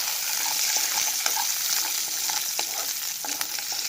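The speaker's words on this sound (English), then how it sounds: "Then give a good stir." Chopped garlic, turmeric and spices for beef rendang sizzle in a hot pan, a continuous bright frying hiss with intermittent scraping stirs, close and fairly loud, no talking.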